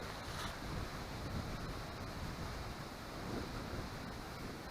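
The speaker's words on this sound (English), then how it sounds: "It's a little windy out" Steady wind gusting across the microphone at a lakeside wilderness campsite on Round Valley Reservoir, a broad continuous rushing roar with gentle swells, close and fairly loud, no voices.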